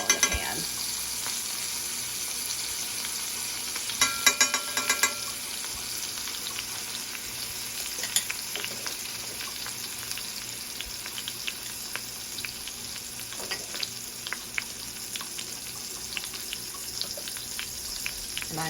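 Minced garlic sizzles softly in a frying pan, a low continuous crackle with scattered utensil clicks and a brief clattering burst early on, no speech.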